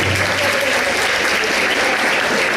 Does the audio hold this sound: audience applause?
yes